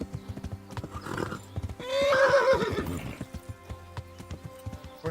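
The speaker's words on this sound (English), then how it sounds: "Horse getting tired." Horse in Kingdom Come: Deliverance, clopping hooves in a steady rhythm, broken by one loud, drawn-out neigh in the middle before the hoofbeats carry on alone.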